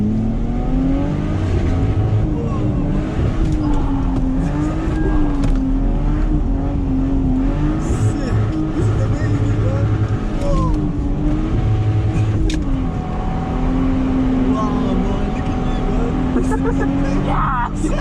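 A 150bhp Lexus drifting at Driftland, with a loud, sustained engine drone that rises and falls as the revs swing, continuous throughout, while people talk over it.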